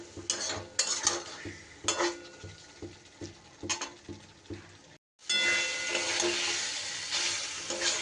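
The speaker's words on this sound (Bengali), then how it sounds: "আবারও আমি খুব সামান্য একটু জল অ্যাড করছি যাতে ভালো করে কষানোটা হয়" Pointed gourd cooks with spices in a pan, with rhythmic spatula scrapes and clinks over a low sizzle, then a brief pause before a louder, sustained hissing sizzle as a splash of water hits the pan.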